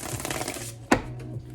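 A deck of tarot cards shuffled by hand up close, a rapid fluttering riffle with a sharp slap as the cards are knocked together partway through, then more soft shuffling.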